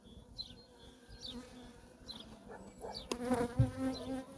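Honey bees buzz steadily inside a beehive during a spring colony inspection, a dense continuous drone close by, with soft handling noises and a brief louder knock near the end.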